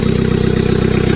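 A Vermeer S725TX mini skid steer engine runs at a steady idle, a loud close rhythmic diesel chug with a constant pulsing throb and no voices.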